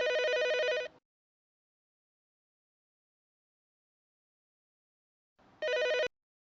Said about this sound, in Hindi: रुको रुको, सीमा सीमा जरा फोन देखना।